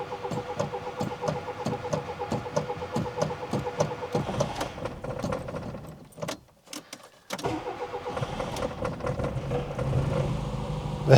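An old car with 86,000 kilometres on the clock cranks for a long stretch in rapid rhythmic starter pulses, pauses briefly, then fires and catches into a steady running engine, close and loud.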